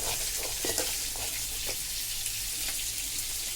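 Spices sautéing in a pan while being stirred often, a steady broad sizzle with a few light scraping knocks, fairly quiet and close, no talking.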